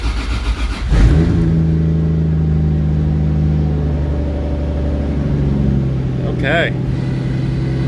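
A car with a 1.5JZ engine, just repaired after an open circuit on the cylinder 6 coil pack, starts up and settles into a steady, close idle with one brief rev, while a person speaks a word.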